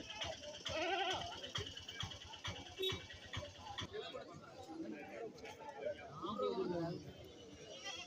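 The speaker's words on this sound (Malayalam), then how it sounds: "ഇനി ആടുകൾ ചന്തയിൽ ഒരുപാട് നിൽപ്പുണ്ട്" Goats bleat at a busy livestock market, several calls rising between steady talk and crowd chatter, moderately near amid general bustle.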